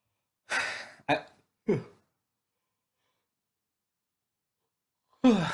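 A person yawns and sighs loudly three times in quick succession, each a breathy exhale that fades, followed by a long silence before another loud breathy sound begins near the end.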